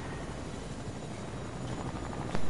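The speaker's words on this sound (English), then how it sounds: "I said get in the helicopter and fly it." A helicopter flying in a PS4 video game, a continuous rapid rotor chop and engine drone, steady and fairly close, with a brief louder bump near the end and no talk.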